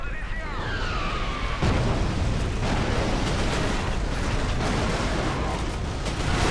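Grenade explosions in the video game Resistance: Fall of Man boom in a dense, loud roar of rumbling blasts and debris, following a brief whooshing sweep at the start and sustained to the end.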